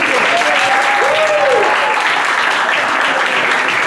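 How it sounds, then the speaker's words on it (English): Applause from a school audience greeting a teacher, a steady loud wash of clapping throughout with voices and cheers mixed in. "Can we give her a round of applause?"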